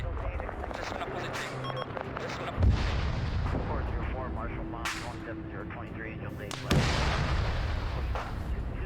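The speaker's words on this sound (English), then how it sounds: "they're just bombarding the shit out of it with their assets" Artillery and rocket pods pound a target in a military video game: heavy, distant booms and rumbling blasts roll on repeatedly while someone talks over them.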